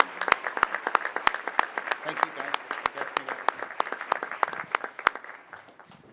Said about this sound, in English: let's give all of our artists a big round of applause